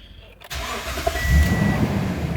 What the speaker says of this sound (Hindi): अब गाड़ी को स्टार्ट करते हैं और आपको चेक कराता हूँ जी।